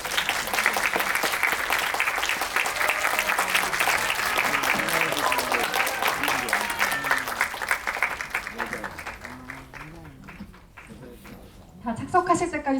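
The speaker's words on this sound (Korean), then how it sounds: "큰 박수로 맞이해 주세요" A film audience at a Miss Baek talk event at COEX in Seoul applauds to welcome the cast and director, dense sustained clapping from a large crowd that thins near the end before a voice starts speaking.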